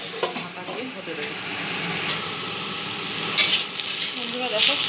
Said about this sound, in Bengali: শাকটা এরকম ভাজা ভাজা হয়ে গেছে